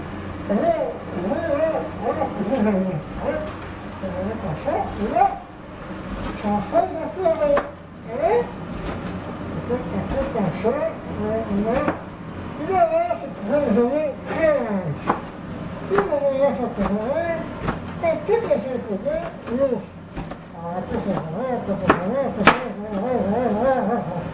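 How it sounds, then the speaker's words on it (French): A knife chops onions on a cutting board in a home kitchen, giving irregular clusters of close, sharp taps that run throughout under steady conversational speech. "c'est ce que je vais faire pour couper le reste de mes oignons"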